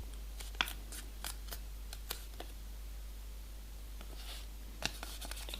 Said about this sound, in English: And now fold every corner to the center here.